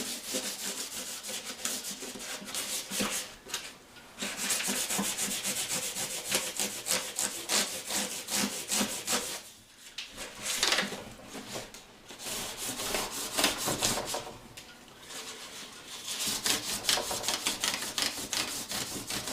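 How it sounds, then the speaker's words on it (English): A guitar being hand-sanded with fine 400 to 500 grit sandpaper, with rhythmic back-and-forth rasping strokes close up, continuous apart from brief pauses, and no voices. "I'm going to sand this all the way down. Like I said, this is about 400 or 500 grit sandpaper."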